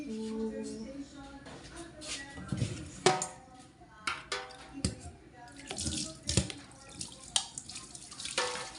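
Water runs from a tap into a sink while food is washed, with splashing, dripping and bursts of flow over several seconds.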